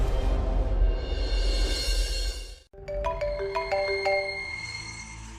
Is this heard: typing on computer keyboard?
no